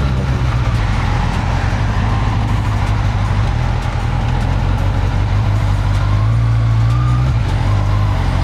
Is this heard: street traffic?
yes